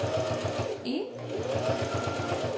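A sewing machine stitches a cosmetic bag with a steady, fast rhythmic whir. It runs close by and drops out briefly partway through, with faint talk in the background.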